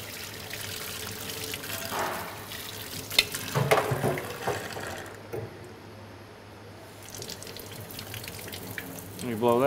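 Water run through a paint spray gun to flush it out after applying LizardSkin coating: hissing, splashing flow with gurgles and clatter near three to four seconds, easing off midway before resuming.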